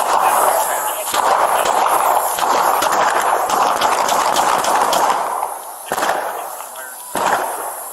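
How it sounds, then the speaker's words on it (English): Gunfire rings out during a police shooting in Ferguson, sharp loud bursts layered over shouting voices and commotion, with brief gaps near the end. "Shots fired! Shots fired!"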